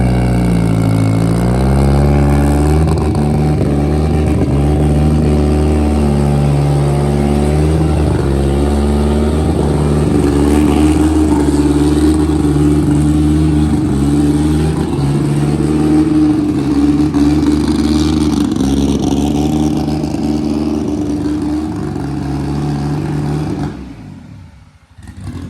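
Honda Civic with a manual clutch driven briefly, its engine droning loud and close with rising and falling revs as it works through the gears, then dropping away near the end.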